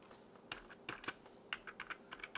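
Keys pressed on a 60% wireless gaming keyboard with one side sticking, giving a run of sharp, close clicks, a few single taps and then a quicker irregular burst, with no talking.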